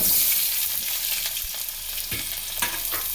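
Onions and potatoes sizzle and crackle in a hot pan with oil, a steady close frying hiss with occasional stirring scrapes.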